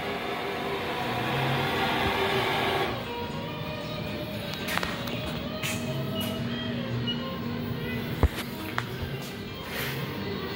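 A Southwestern Industries Proto Trak 1745P CNC lathe runs through a program with a steady mechanical whine and hum that shifts pitch partway through, plus occasional sharp ticks and clicks, without talk.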